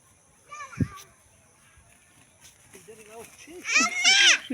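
Goats at a village home bleat near the start and again loudly toward the end, mixed in with children's voices and adult talk close by.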